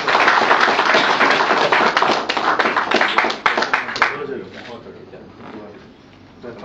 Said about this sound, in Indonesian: Mohon aplaus yang meriah.